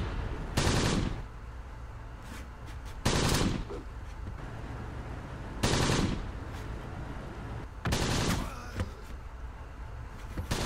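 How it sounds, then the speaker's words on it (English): Four loud bursts of heavy machine gun fire from the Close Combat war game, evenly spaced with quieter battlefield ambience between them. "Got that very heavy machine gun, and he's firing it well"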